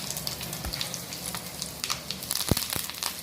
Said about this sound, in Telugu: పోపు దినుసులు వేగుతుండగా ఇప్పుడు చిన్నుల్లిపాయలు దంచుకొని వేసుకోవాలండి